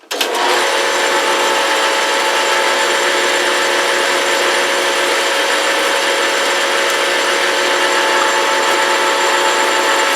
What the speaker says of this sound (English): But on a lathe like this, where you have step pulleys, you have to deal with what you get.